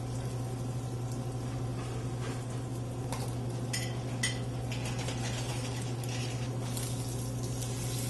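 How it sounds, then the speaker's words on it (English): Pork fat sears and caramelizes in a hot pan with a steady, even sizzle throughout, plus a few faint clinks of a utensil against the pan, close by and moderately quiet. "And I'm just gonna caramelize the fat."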